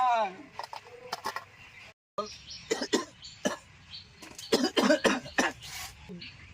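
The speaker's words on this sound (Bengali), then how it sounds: "এত কাশি হয়েছে" An elderly person coughs sharply and repeatedly in bursts, close by, with a brief silence partway through and some voice mixed in between the coughing fits.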